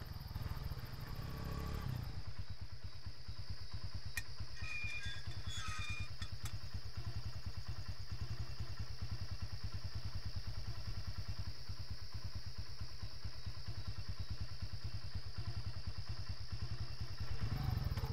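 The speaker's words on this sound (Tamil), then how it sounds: "சார் வண்டி வருது சார்." A motorcycle engine thrums steadily and loudly for the whole stretch, with a rapid rhythmic pulse and a constant high whine above it, after a short opening of quieter noise.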